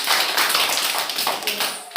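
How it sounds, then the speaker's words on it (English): A class of young children claps together in a classroom, making a dense, fast patter of hand claps that runs close and loud for about two seconds. "Clap again"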